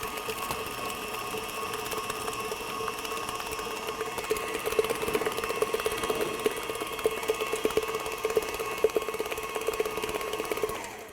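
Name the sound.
electric mixer blending cheesecake batter with eggs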